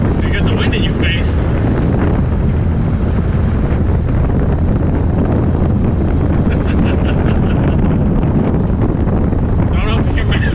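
Steady, loud wind rushing over the open cockpit of a moving 1965 Ford Falcon with EFI at about 25 miles an hour, a continuous roaring buffet that fills the whole clip.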